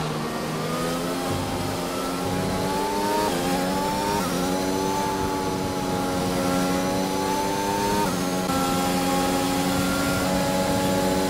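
Sim race cars pull away after a safety car period in a Spanish Grand Prix racing simulator, engines climbing in pitch through upshifts, the whine dropping and rising again several times, loud and continuous with no talk.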